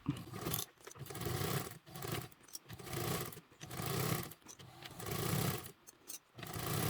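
A sewing machine stitches air mesh fabric for a bag sling strap, running in repeated bursts of steady whirring with short pauses between them, close and fairly quiet.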